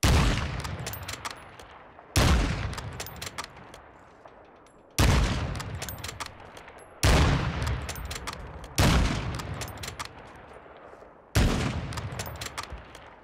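Heavy gunfire from a gun in Warzone 2 rings out in six loud, evenly spaced shots, each with a long echoing decay, with no talking over them.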